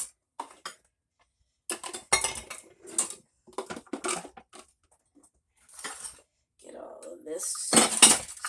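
Dishes being put into a kitchen sink: scattered clinks and clatters of plates, cutlery and crockery set down one after another, close and irregular, with quiet gaps between.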